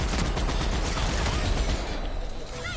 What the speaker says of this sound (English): She's really shooting.